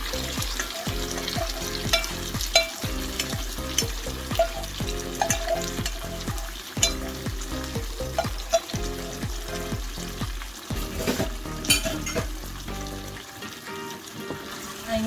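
Carolina reaper chicken wings fry in a pan with sauce, giving a dense, steady sizzle broken by a rhythmic stirring clatter, close up and without speech.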